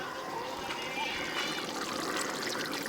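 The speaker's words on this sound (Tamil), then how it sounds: "தேவையான அளவு தண்ணி ஊற்றிக்குவோம்." Water pours steadily into a cooking pot with a soft trickling, splashing texture, fairly quiet and close.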